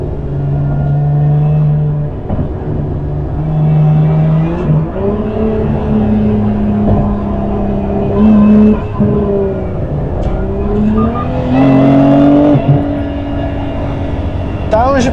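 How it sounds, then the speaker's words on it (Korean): Lotus Emira V6 sports car engine blipping up in revs on automatic downshifts, a loud continuous drone with rising pitch sweeps, heard from inside the car with someone talking over it. "다운시프팅이 들어갔을 때 그러면서 확 올라가게 되는 이 엔진의 회전수, 그러면서 같이 들려오는 이 하이소프라노의 이 신경질적인"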